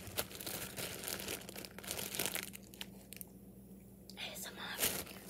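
Crinkling and rustling of a bag being stuffed with Tim Hortons items, close and fairly busy, with a steady low hum underneath and a brief quieter pause partway through.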